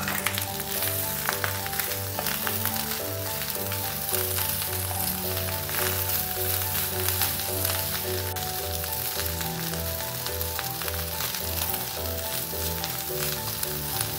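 Rice sizzles steadily in a pan with onions and cumin seeds for jeera rice, a dense continuous frying hiss at close range, with no talking and background music running underneath.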